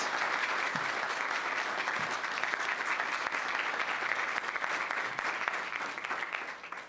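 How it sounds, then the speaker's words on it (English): At a community forum, the audience gives the color guard a full round of applause, a thick, steady wash of clapping that holds for several seconds before beginning to thin out. "Let's give our Essentials Color Guard a round of applause"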